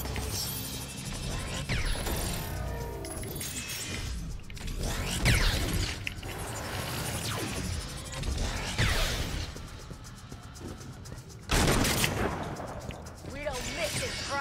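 Gunfire from the video game Agents of Mayhem, irregular bursts of shots and impacts set amid a busy, dense game soundscape, with one loud cluster near the end.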